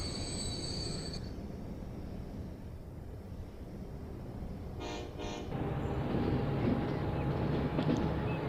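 A fast train engine runs in the rail-building game Transport Fever, with a steady low rumble, a brief high squeal of wheels early on, and a short tooting burst midway before the rumble grows louder.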